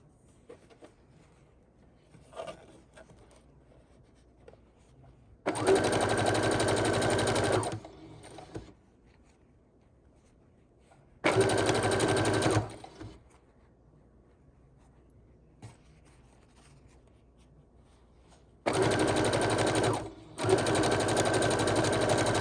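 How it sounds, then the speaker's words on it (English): Quilt strips are chain stitched on a sewing machine, with three separate loud bursts of fast motor whirring broken by quiet gaps of light handling. "We're going to chain stitch the next round."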